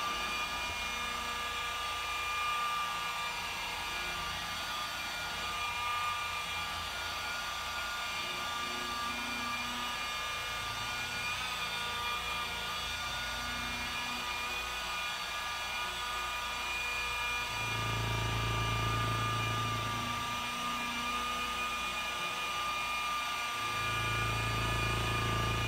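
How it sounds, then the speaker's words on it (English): Car paint polisher working refinish compound on paint, a steady whining motor hum throughout with small shifts in pitch and load as the pad moves, close and fairly quiet. "Let me put the polisher down,"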